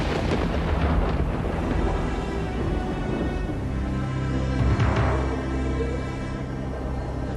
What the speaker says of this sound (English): the storm was raging all around him